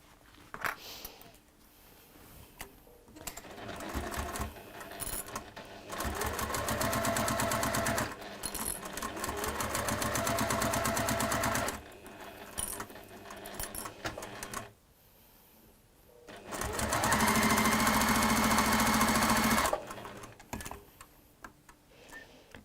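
Sewing machine top stitching fabric binding, running in several steady bursts of rapid mechanical stitching, close and moderately loud, with quiet pauses between runs.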